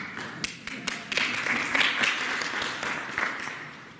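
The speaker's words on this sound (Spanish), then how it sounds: "aplauso" Applause at a Mexican government press conference as state approvals of a constitutional reform are read out, a steady patter of clapping with some sharp individual claps over roughly four seconds.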